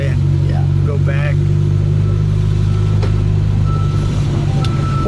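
A 1960 Fiat 1500S OSCA coupe drives along with a low steady engine hum inside the cabin, while people talk over it and a few short tonal chirps pass.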